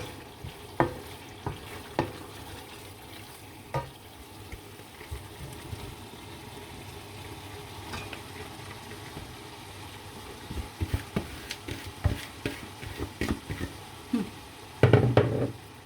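Tomato-based food frying in a pot, a low steady sizzle with occasional scraping knocks from stirring that grow busier and louder toward the end.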